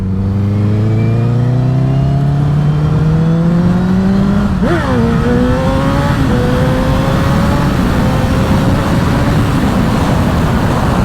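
A car on new tyres drives at a good pace, its engine loud and close as it revs up through the gears with rising whine and a shift midway, then holds a steady drone.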